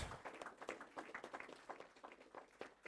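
Applause at a central bank's 50th anniversary event marking the unveiling of a new $50 note: uneven, moderately dense clapping from a gathered crowd, fairly faint and distant, pulsing without pause.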